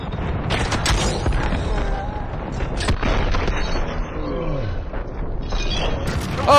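A grenade explodes in the Modern Warfare video game as a heavy, booming blast amid constant gunfire and game noise, with a player's shouts over it.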